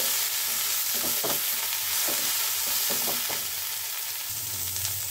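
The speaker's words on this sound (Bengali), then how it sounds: "সবজিটা একটু ভাজা হয়ে গেলে" Vegetables frying and sizzling in a pan with a pinch of salt for a vegetarian moong dal, a steady hiss broken by a few clattering stirs, close and continuous with no voices.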